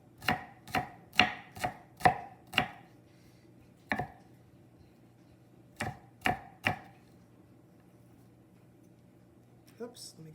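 A knife chops an onion on a board in crisp, close thuds, first a quick run of about seven strikes, then a lone cut, then three more after a pause, with quiet gaps between.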